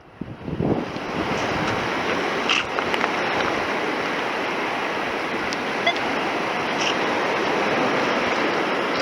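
Ocean waves wash up at a beach shoreline, a steady loud roar of surf close by with continuous spray and some wind noise across the microphone, and no voices.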